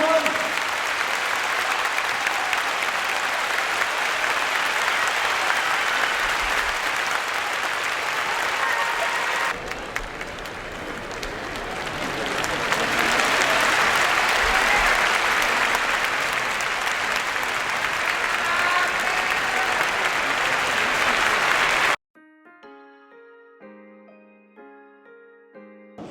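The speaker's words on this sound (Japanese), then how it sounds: "皆様どうぞ今一度大きな拍手をお送りください。" Sustained audience applause in a sumo venue for retiring yokozuna Terunofuji, a dense wash of clapping from a large crowd that swells midway, then cuts off abruptly before a short bit of piano music.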